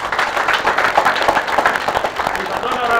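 Audience applause at a residents' gathering over compensation for demolished houses, dense and steady for a few seconds, with crowd voices mixed in.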